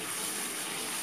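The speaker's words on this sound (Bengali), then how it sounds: "তো এখন ঝোল দিয়ে দিব এটার মধ্যে" Liquid broth pours into a pot of chicken and potato curry, a steady close rushing splash with no talking.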